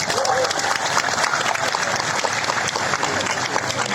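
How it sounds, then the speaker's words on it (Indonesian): A crowd in a town square claps steadily and densely, a continuous wash of applause that stays at an even volume throughout. "Tepuk tangan dulu dong."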